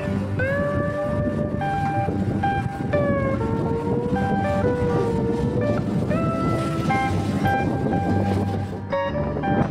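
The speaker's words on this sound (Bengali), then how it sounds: "আমাদের ট্রেন বর্তমানে রাজচন্দ্রপুর ছেড়ে দিয়েছে।" A suburban electric local train on the Sealdah–Dankuni line pulls out of Rajchandrapur station, giving a steady wheel-and-track rumble under motor whine tones that step and glide in pitch throughout.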